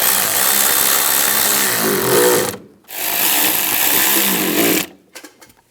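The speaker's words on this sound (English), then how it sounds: "Tighten down the worm clamps." Worm hose clamps on a car airbox being tightened down with a power tool, giving two loud, steady buzzing runs of about two seconds each, separated by a brief pause, on a 2015-2020 GMC Yukon XL.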